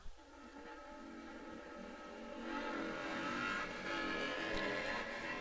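Nitro drag racing cars at the AMRA Michigan Nitro Nationals, a loud, steady engine roar filling the track air and swelling louder midway, heard from a distance without talk.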